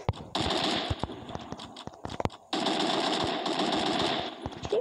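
Rapid automatic gunfire in the shooter game Free Fire, two long loud bursts of rattling shots broken by a short pause of scattered single shots, with no speech.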